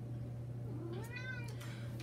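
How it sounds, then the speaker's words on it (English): A house cat gives one clear meow indoors, a short rising-falling cry against a steady low electrical hum, with quiet room noise before and after. "And there's the cat I talked about."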